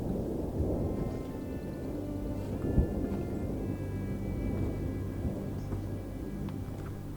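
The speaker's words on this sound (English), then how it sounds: "the thunder and rain slowly crept closer" Thunder and rain approaching in the Colorado wilderness near alpine lakes, a low, distant rolling rumble with a brief louder crack, under a soft wash of rain.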